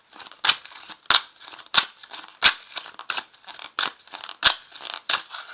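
Oracle cards being cut and shuffled by hand, a steady series of about ten crisp, close slaps and riffles in an irregular rhythm with no talking.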